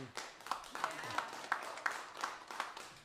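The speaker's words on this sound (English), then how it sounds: "That's recognition applause." At a live folk music concert, an audience claps in a fairly regular, rhythmic pattern of distinct claps, moderately loud and close, with a faint voice now and then.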